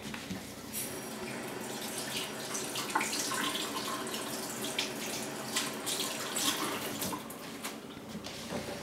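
Water runs steadily from a kitchen tap into a sink while a spoon is washed, a constant splashing flow with occasional clinks, close and moderately loud.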